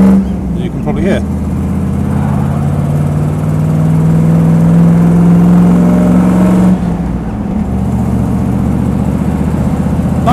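A Land Rover 90 soft-top's V8 engine revs up and holds a high, throaty drone before dropping back, loud and close, with a voice briefly speaking over it.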